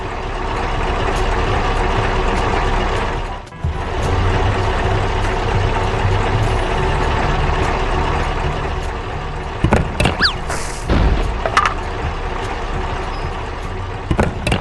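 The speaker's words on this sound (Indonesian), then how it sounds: "Truk itu terus melaju, meninggalkan kargo yang tertinggal di jembatan." A truck engine rumbles steadily in an animated scene and drops out briefly for a moment. Near the end there are some sharp hisses and clunks that could be air brakes.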